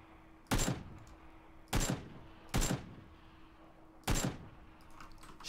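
Gunfire in a video game, four separate sharp shots spaced unevenly about a second apart, loud and close, with a short decaying tail after each and a faint steady hum underneath.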